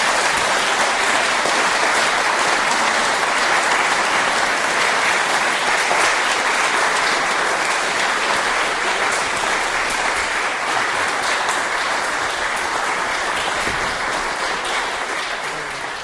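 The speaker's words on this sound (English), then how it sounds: "You hear from that applause how much the large audience here tonight have appreciated a really outstanding presentation" A large audience in a London hall claps after President Vaclav Klaus finishes a speech, a loud, sustained wash of applause that tapers slightly at the very end.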